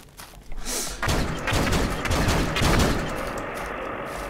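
Custom-built assault rifle fires in Starship EVO, a dense run of gunshots starting about a second in and continuing loudly to the end, with faint game noise before.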